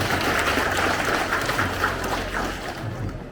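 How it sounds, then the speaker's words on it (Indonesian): A hall audience at a village finance forum with the Wonogiri regent gives a round of applause for village heads, a thick, loud spread of clapping that fades slightly toward the end. "Tepuk tangan untuk kepala-kepala desa"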